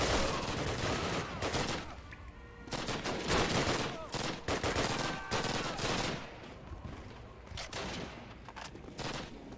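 A high-damage, low fire-rate gun fires repeatedly in a video game. Loud, heavy shots come in spaced bursts with short gaps between them across the whole stretch, with some background game noise.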